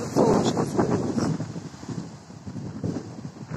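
Wind gusts buffet the microphone over the steady wash of sea waves at the shore under an overcast sky near mountains, a continuous broad rumble with no voices.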